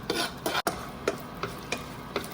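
Chopped cashews and blanched almonds roast in a dry pan, with a spoon scraping through them in regular strokes about twice a second, a soft gritty rasp over a faint steady hiss.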